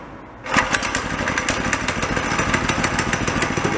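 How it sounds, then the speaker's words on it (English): A small engine starts and settles into a steady, close, rumbling idle with rapid even pulses, running a CVT transmission, with no talk over it. "Okay, there's idle. Give it a little gas, and it starts moving."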